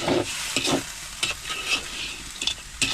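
Crabs are stirred in a pot with Sprite, a spoon or spatula scraping and knocking against the pot in irregular strokes over a soft steady sizzle, close up with no talking.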